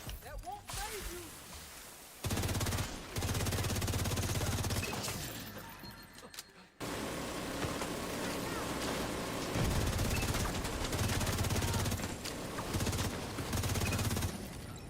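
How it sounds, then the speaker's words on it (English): Rapid gunfire in The Division 2 as a player shoots at decoys, with loud sustained bursts, shattering impacts and brief gaps between volleys. "I shoot my own decoys so many times."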